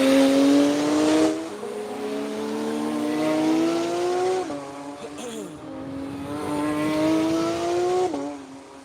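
Loud race cars drive past with high-pitched engines screaming as they climb through the gears, sharp gear changes and repeated rising whines sweeping by in quick succession, alone without talk.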